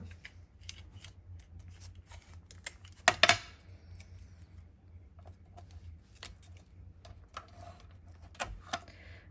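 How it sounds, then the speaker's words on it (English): Washi tape is pulled off the roll and pressed onto a craft box in quiet, scattered close-up ticks and crinkles, with one brief louder ripping burst partway through. "Washi taping this down."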